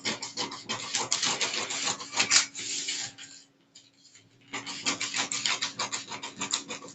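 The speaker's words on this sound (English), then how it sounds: "So let me just cut it out. Let me cut out my V-neck." Scissors cutting a V-neck yoke piece of fabric for a corset bustier, a close, steady scratchy snipping that stops briefly midway and then resumes, with no one speaking.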